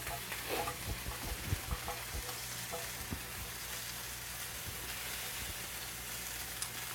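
A steak fries in a pan with a steady soft sizzle, quiet and continuous, broken by occasional clicks and light knocks.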